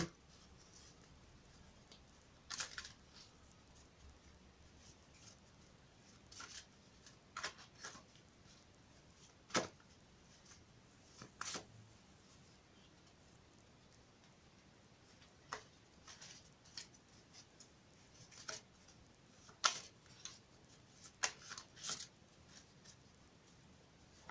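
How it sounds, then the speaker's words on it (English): Soft papery riffling and flicking of large, stiff oracle cards being shuffled, in scattered short bursts separated by quiet pauses, close by with no talking. "very big and very hard to shuffle, but I have pre-shuffled them already"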